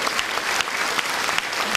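Steady, dense applause from an audience honoring a poet at a folk band's anniversary concert, continuous broadband clapping with a few sharper accents, no voices over it.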